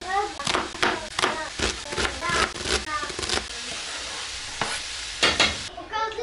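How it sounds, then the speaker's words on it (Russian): Meat sizzles in a very small frying pan with repeated scraping and stirring strokes, close and fairly loud, a few bursts spread through the clip. "Сейчас немножко мяса обжарим и буду закидывать уже овощи."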